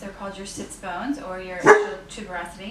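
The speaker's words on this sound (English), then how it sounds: "That's my dog" A dog barks a few times in short yips behind a person speaking steadily indoors, one sharper bark standing out in the middle.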